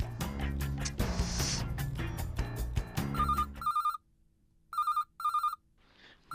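A telephone rings in two sharp electronic bursts after a musical passage ends, each ring a bright warbling trill with a short gap between, loud and close with no talk over it.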